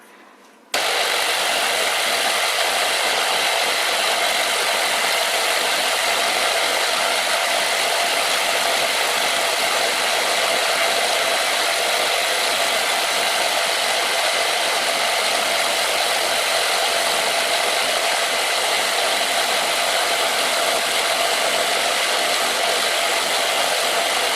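A Bernardo Profi 60 metal lathe turns a threaded spindle, taking roughly a millimetre cut, starting abruptly after a moment of quiet and then holding a loud, steady motor whine with constant broadband machining noise throughout.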